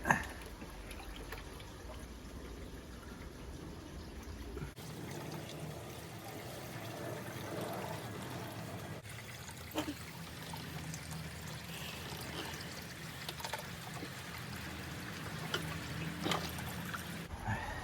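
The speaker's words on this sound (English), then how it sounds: "Just need to change some water into the bucket." Water poured into a bucket during a winter water change on an outdoor aquarium, a steady trickling pour running alone at moderate level for the whole stretch, with a brief shift in tone midway.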